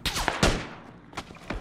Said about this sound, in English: they're shooting at me out of the top story